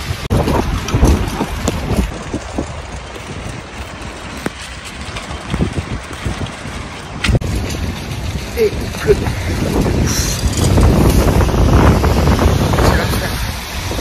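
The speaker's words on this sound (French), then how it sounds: "il fait une pluie de ouf" Steady heavy rain hissing outdoors in a Belgian supermarket car park, with gusts of wind buffeting the microphone, growing louder toward the end, with scattered footsteps and faint voices.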